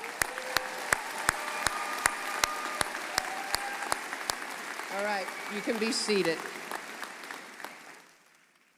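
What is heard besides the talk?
commencement audience applause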